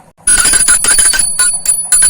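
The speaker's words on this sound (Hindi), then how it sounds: "घंटी, माँ के वहाँ बड़ी घंटी है तो माँ के यहाँ पे छोटी घंटी है।" A small handheld ritual bell rings for aarti in a home shrine, shaken rapidly in loud, close bursts of bright metallic ringing with brief gaps, and no voices.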